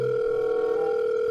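Steady telephone dial tone heard while calling a number from an advertisement to get into a holiday house at Lake Balaton, a continuous buzzing tone held loud and unbroken throughout, with no talking.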